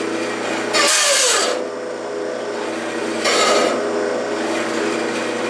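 A Delta saw converted to metal cutting, driven by a gear motor with a loose, slipping belt, hums steadily as two harsh bursts of cutting or belt slip rise sharply above it.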